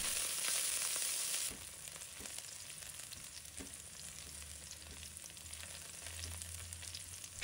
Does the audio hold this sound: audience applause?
no